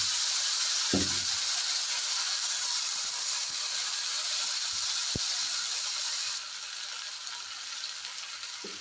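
Onion paste sizzles in hot oil for a Bengali rui fish kalia, a steady bright hiss filling the whole stretch with a couple of faint clicks, then easing slightly softer near the end.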